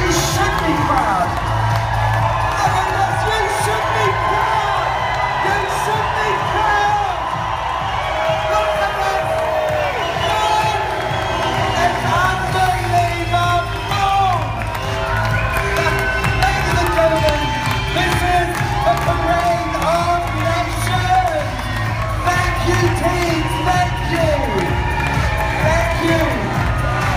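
A large crowd at the Wella ITVA Parade of Nations screams, whoops and cheers loudly and continuously, a dense roar of many voices with shrill shouts rising above it throughout.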